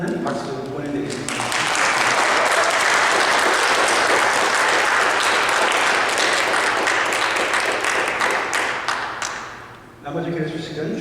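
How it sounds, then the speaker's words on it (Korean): Congregation applause during a Sunday church service, a dense, sustained burst of clapping from many people that swells and carries on for several seconds before tapering off, with a voice speaking near the end. "저희가 환영하는 박수 보내드리겠습니다."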